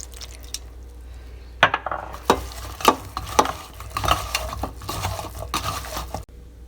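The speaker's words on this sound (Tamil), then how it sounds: "இப்போ இந்த வினிகரை போட்டு லைட்டாக பிசைஞ்சிக்கிறோம்." Raw cauliflower florets with salt and vinegar are mixed by hand in a bowl, making soft, wet squelching and rustling pats in an irregular rhythm, close and fairly quiet, with occasional sharper knocks against the bowl.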